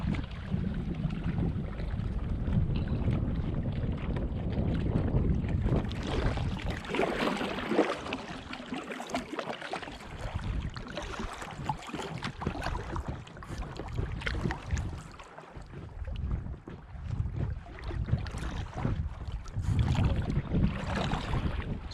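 Paddling a packraft on Canyon Lake on a windy day, with soft water strokes and sloshing buried under constant wind rumble against the microphone and no speech.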